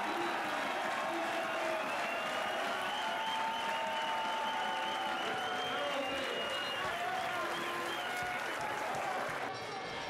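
A big crowd at the 2015 HFL final, a Hungarian American football championship game, roars and applauds steadily for ten seconds, a thick continuous wash of cheering and clapping heard from inside the stands.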